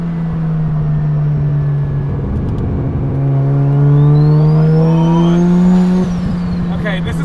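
A big-turbo bridgeported Mazda RX-7 with a 13B rotary engine pulls hard, its smooth buzzing tone climbing steadily in pitch as it accelerates, loud and close from inside the car before easing off near the end.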